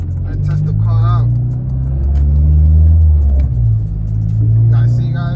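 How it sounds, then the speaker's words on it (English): 8th gen car driving on back roads, a steady close engine drone rising and falling with the gears, with a person talking over it. "We about to hit these back roads and test the car out."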